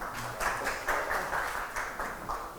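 Faint audience applause at a Jakarta governor and vice-governor election event, a soft wash of many hands pulsing in loose, rhythmic swells for a few seconds.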